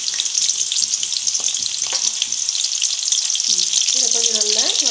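Dried red chillies and curry leaves fry hard in hot oil for coconut pepper rice, giving a loud, steady sizzle with scraping stir noises and a short voice near the end.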